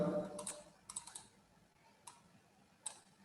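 Soft, sparse clicks of typing on a computer keyboard, a handful of quiet keystrokes in irregular bursts, close by and otherwise near silent.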